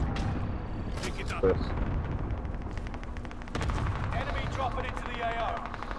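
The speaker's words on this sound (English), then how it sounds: "Oh yeah, I'm hearing gunshots." Gunfire in a multiplayer shooter match, with sharp reports and some rapid bursts mixed into game noise while players talk over it.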